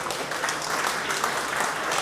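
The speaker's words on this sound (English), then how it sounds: "please give them a round of applause anyway" Audience applause at the Great Electric Train Show 2024 model railway awards ceremony, a steady dense clapping from a crowd filling the whole short stretch.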